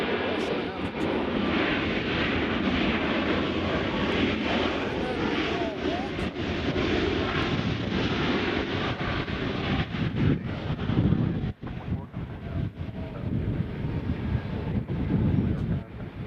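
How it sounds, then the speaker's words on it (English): A WestJet airliner on the move at Nashville International Airport gives off a steady, broad roar mixed with gusty wind rumble against the microphone, holding fairly constant with a brief dip near the end. "We've got WestJet, one of our many WestJets here on the move."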